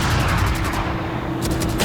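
A single AWP sniper rifle shot from the game Valorant sounds as one loud, sharp crack with a booming tail, near and dominant, with no talking over it.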